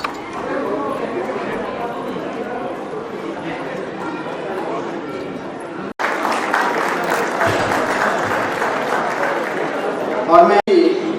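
Audience applause at a music teachers' award ceremony, sustained clapping from a large crowd that swells louder partway through, with chatter and voices mixed in.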